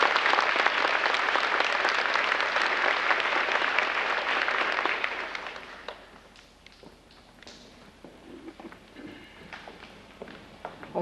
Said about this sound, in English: let's give them one round of applause real quick